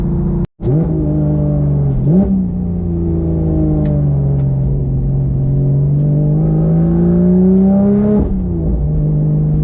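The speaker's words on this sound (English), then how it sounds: "this is like a really good sounding exhaust setup" A 2018 Porsche GT3 with a manual gearbox idles with a deep, steady exhaust burble, blipping up in short revs around two and eight seconds. Loud and close, no voices.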